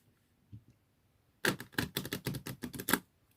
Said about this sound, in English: riffle shuffle and push them together